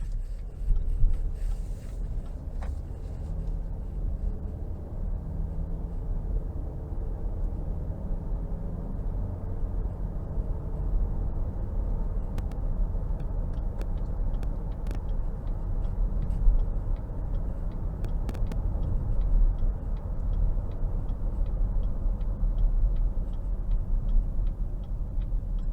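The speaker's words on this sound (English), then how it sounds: "let's go ahead and take this 2023 XT5 out on the road for a quick test drive" Interior of a 2023 Cadillac XT5 Luxury with a 2.0-liter turbo engine driving on the road, a steady low road and engine rumble with faint ticking clicks, heard from inside the cabin.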